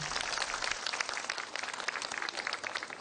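Applause rings out at the opening ceremony of a church vision center, a faint, steady patter of many hands clapping at a distance, continuous across the moment without talk.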